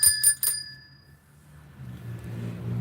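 A tricycle bell rings three quick bright dings in a row, the last tone ringing out and fading, followed by a low rumbling background.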